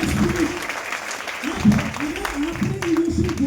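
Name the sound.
audience applauding loudly for themselves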